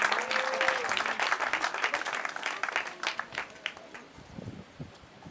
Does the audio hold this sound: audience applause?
yes